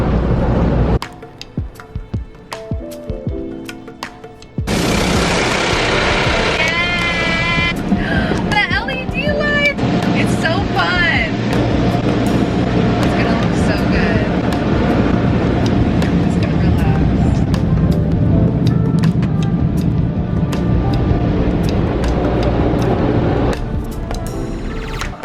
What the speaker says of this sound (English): I made it in the car wash